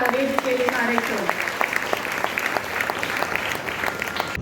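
Audience applause for a Bharatanatyam dancer fills the hall, a dense steady patter of many hands clapping, with a brief sustained tonal sound near the start.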